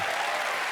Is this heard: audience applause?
yes